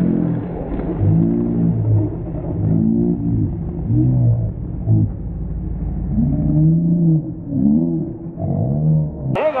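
Race car engines rev and accelerate at Seekonk Speedway, their loud, rising and falling harmonic roar surging repeatedly as the cars pull away, continuous throughout with a sharp burst near the end.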